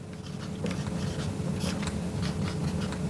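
A pen or chalk writes a word on a surface in a quiet room, giving a series of soft, close scratchy strokes in an irregular rhythm.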